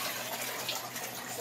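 Water runs and splashes steadily as rinsed canned red beans drain through a strainer, a continuous close rushing wash with no talk.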